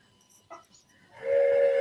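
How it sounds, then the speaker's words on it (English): Loud sustained train horn sound effect blasting in over the last half second or so after a quiet stretch with brief voice fragments, played out over a live stream. "That's my train horn everybody's been asking me to get."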